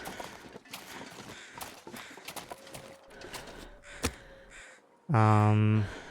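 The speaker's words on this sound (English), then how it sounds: "I think I hear crows." Crows cawing in the survival video game The Long Dark, a few scattered calls in a quiet outdoor ambience with faint footsteps, closing with a loud harsh burst near the end.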